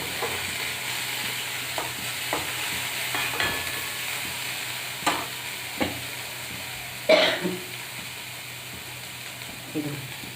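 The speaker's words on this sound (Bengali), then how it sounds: "বেশি ভাজবো না হালকা একটু গরম করে নেওয়া" Garlic lightly frying in a pan for a sattu paratha filling, a steady soft sizzle with occasional scraping stirs and clinks throughout, close by and moderately loud, with no talking.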